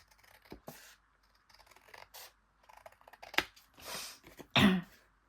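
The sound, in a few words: scissors cutting envelope paper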